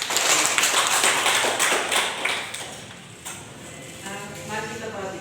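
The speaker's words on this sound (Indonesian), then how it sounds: "Berikan tepuk tangan dulu untuk kedua." Classroom applause from a small group, brisk clapping that starts loud and fades away over a few seconds, with a voice speaking during it.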